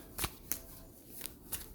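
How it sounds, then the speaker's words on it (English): Cards are shuffled in several quick riffle bursts, crisp and close, with short pauses between them. "I was getting these cards an extra good shuffle"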